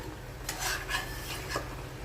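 A spatula scrapes and rubs through pabda fish in a pan of mustard-oil jhal, a few soft rasping strokes close by over a low steady background hum, with no talking.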